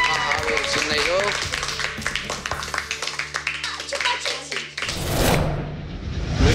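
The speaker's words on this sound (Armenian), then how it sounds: "հիմա ճանապարում ենք Անուշին ու Սաթին բեմ մի ավելի բարձր ծափահարություններով" Applause in a TV studio welcomes two young performers, Anush and Sati, to the stage at a dance show final. A voice speaks first, then a dense burst of clapping swells up and fills the last two seconds.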